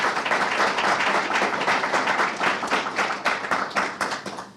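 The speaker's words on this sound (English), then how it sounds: "Let's give a big round of applause to our panelists." A forum audience at a Medicaid policy event gives its panelists a hearty round of applause: dense, close clapping that holds steady, then thins into individual claps as it fades out.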